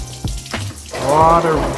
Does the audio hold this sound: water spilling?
yes